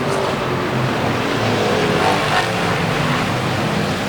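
Stock car engines, including a 77 Chevy Monte Carlo, roar around a track during a hobby-class heat race, a loud steady wash of engine noise from passing cars.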